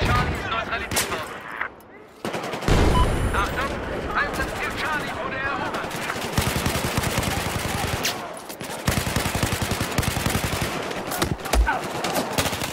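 Battlefield 4 multiplayer gunfire rattles through a whole magazine in rapid bursts, loud and dense, with explosions and battle noise around it and someone talking over parts of the shooting.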